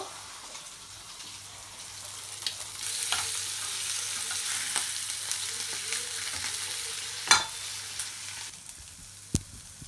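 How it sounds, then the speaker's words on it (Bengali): Fish cooks in a pan with a steady, loud frying sizzle that swells midway, with occasional sharp clinks and stirring knocks of a utensil against the pan. "এখন এই যে মাছ দিয়ে রান্না করব।"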